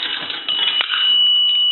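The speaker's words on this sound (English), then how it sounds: "That will ring the bell once." A nickel rattles into a three-slot payphone slot, followed by a single clear bell tone that rings on and sustains at a steady level.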